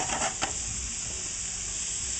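Shrimp and snow peas cooking in a pan in garlic ginger sauce, a steady bright sizzle and hiss with a couple of quick stirring clicks at the start.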